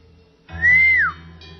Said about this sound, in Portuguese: Assobiou cheio de alegria